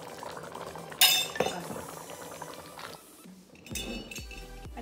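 Water goes into a pot of thickening black chickpea curry: a sharp metallic clink of a utensil on the pot, then quiet bubbling and liquid sounds, with a few more faint clinks near the end.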